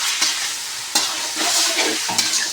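Bachelor-style chicken fry coated in masala sizzling in oil in a pan, a steady close hiss broken by a few sharp stirring scrapes, with no talking.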